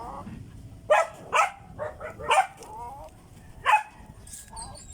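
Several sharp dog barks and yips, one at a time with pauses between them, moderately close, with faint bird chirps in the background and no talking.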